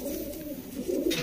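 A pigeon coos, its low throaty call sounding close and clear, one soft burst rising near the end of the short stretch.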